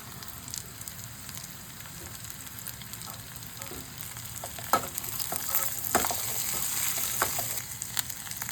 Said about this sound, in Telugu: ఇప్పుడు మనం ఇందులో బీన్స్ వేసుకుందాము